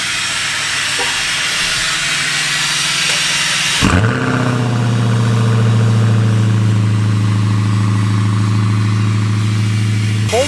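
A Chevy diesel engine cold-starts with a broadband whoosh that cuts into a loud, steady idle. The idle holds a deep droning hum with a rough clatter and runs alone, close up.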